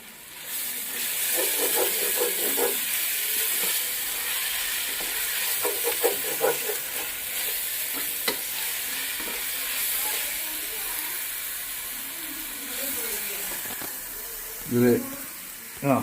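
Bachelor's biryani being stirred in a pan after salt is added, with a steady sizzling hiss underneath, scraping spoon strokes in bursts and a few louder clanks near the end; a voice speaks briefly.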